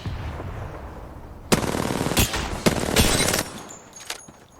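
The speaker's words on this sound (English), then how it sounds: "They're shooting at me." Bursts of rapid gunfire crackle in a noisy battle scene, several loud volleys clustered together, then fading to quieter background rumble.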